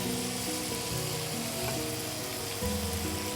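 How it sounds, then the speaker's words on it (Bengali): Boiled rice is tipped into a hot pan of oil with sliced ginger, chopped garlic and fried onion for a prawn pulao made with coconut milk, giving a steady, close sizzle and frying hiss throughout, with no talking. "এবারে আমি রাইসটা দিয়ে দিচ্ছি"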